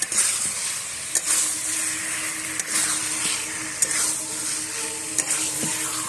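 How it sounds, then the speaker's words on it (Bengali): Meat with spices sizzles in a frying pan as it is stirred, a constant hiss broken by sharp scraping clicks of the spoon against the pan at irregular intervals, up close and without talk. "মাংসটা দিয়ে এবার ভালো করে নেড়ে চেড়ে মাংসটার সাথে মশলাগুলোকে মিশিয়ে নেবো।"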